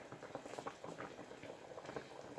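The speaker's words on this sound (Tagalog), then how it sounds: "binuboil ko siya para yung lasa mapunta sa sabaw" A pot of fish soup with fried tilapia bubbles at a boil, a quiet, close patter of popping bubbles in irregular bursts with no voices over it.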